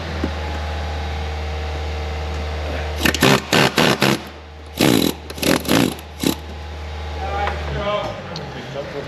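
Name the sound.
air chisel removing a bolt on a Volkswagen Golf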